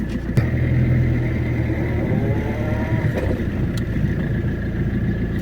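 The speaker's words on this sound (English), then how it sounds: "starting the car and running the car just a bit here on my lawn" An Alfa Romeo GT with its ABS and ESP warning lights on, idling on a lawn: a steady, close engine drone with a low rumble and a faint whine, running continuously with no talk.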